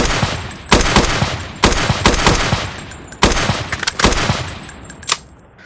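Automatic SCAR rifle fire in the sandbox video game Beyond Sandbox: four loud, close bursts of rapid shots with short gaps between them, tailing off at the end.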